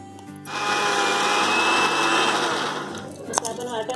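Mixer grinder whirring steadily as it grinds five or six green chillies with a bowl of coconut into a paste, a loud continuous motor drone that winds down near the end, with no talking.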